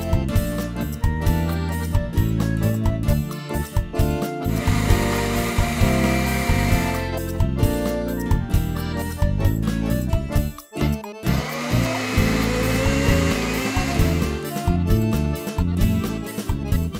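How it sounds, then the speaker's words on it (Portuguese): A blender whirring steadily and loudly at close range as it blends egg with olive oil, a continuous motor drone with slight changes in pitch, and no one speaking. "Vamos liquidificar o ovo com o azeite."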